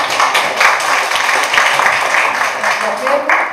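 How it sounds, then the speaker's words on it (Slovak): An audience claps for a startup founder being introduced at a small startup event, a dense burst of applause with many overlapping hand claps, fairly loud and close, holding steady for a few seconds before beginning to thin. "Takže veľký potlesk."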